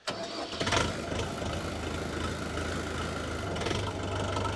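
A HORST R504G tractor engine runs steadily while the machine circles and turns around. A brief rise early on gives way to a constant mid-pitched diesel drone, close and loud throughout, with no talking.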